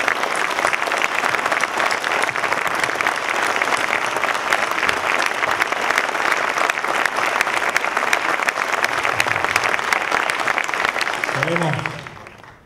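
An audience gives strong, continuous applause at a gathering, with dense clapping and crowd murmur that stays even for about eleven seconds and then quickly dies away. A voice starts speaking at the very end.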